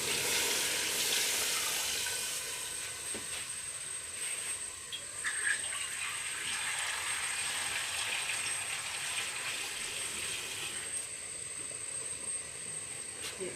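Water poured into a pan of frying chicken pulao masala with korma spice sets off a loud, steady sizzle and hiss that fades slightly but keeps crackling for the whole stretch, with no talking.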